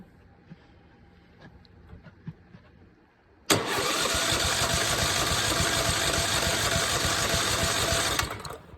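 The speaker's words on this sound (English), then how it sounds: "watch what happens when I crank it" A small engine with no spark is cranked by hand while a spark tester is attached; after a quiet stretch with faint clicks, a loud, steady buzzing whir starts abruptly and runs evenly for about five seconds before cutting off.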